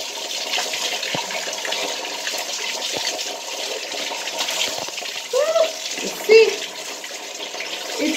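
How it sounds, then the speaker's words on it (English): Shower water runs steadily in a home bathroom, a continuous close hiss and patter, with a few brief knocks and short vocal sounds on top near the end. "So you see, I do shower."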